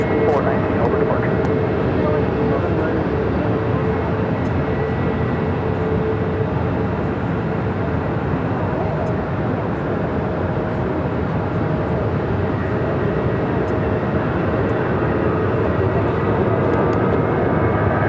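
Aircraft noise at Phoenix airport forms a loud, continuous broadband roar that holds steady throughout, with radio-style talk faintly mixed in.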